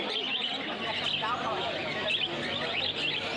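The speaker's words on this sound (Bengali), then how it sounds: "দেখতে পাচ্ছেন কত সুন্দর সুন্দর হেলদি পাখি।" Caged pet finches and other small birds chirp and twitter continuously at a busy bird market in Kolkata, a dense, fairly loud chorus of overlapping calls with murmuring voices and market noise underneath.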